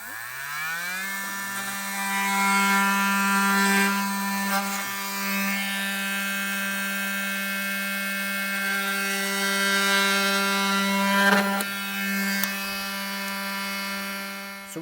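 A rotary tool trims back plastic to fit a Blue Ox base plate on a 2021 Jeep Grand Cherokee, giving a steady, close, high-pitched whine that runs almost unbroken throughout with slight dips in pitch as it cuts, and no talking.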